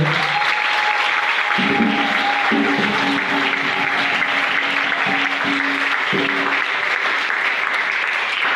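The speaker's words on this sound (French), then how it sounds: "C'est comme ça qu'on va applaudir pour le Seigneur." Worshippers at a healing prayer service applaud for the Lord, a long steady wash of clapping with sustained musical tones or sung notes running underneath.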